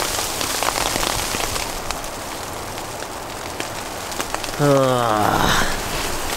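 Rain and wind beat on a shelter during a winter backpacking trip to Glacier Point in Yosemite National Park, a steady close patter and hiss throughout, with a short voiced groan or sigh near the end.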